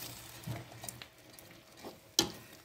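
Semolina and fresh cream being stirred in a pan for a sweet soji dessert, with faint, sparse scraping strokes and one sharper clink of the spoon near the end.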